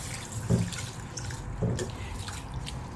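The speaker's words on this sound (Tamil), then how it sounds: "இது எல்லாத்தையும் நம்ம நல்லா வாஷ் பண்ணிக்கலாம்." Lentils and fenugreek seeds being washed in water, with soft sloshing and swishing and two distinct splashing swirls, quiet and close.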